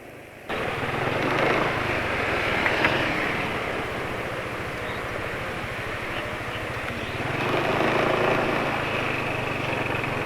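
An engine running on Axson 10W40 oil idles with a steady, even drone after starting up, rising slightly in loudness partway through and continuing without speech.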